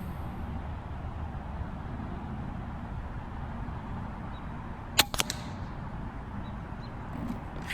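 A single sharp crack from a Hatsan Flashpup air rifle fitted with a custom baffle, heard once midway with a brief echo tail over steady outdoor background hiss.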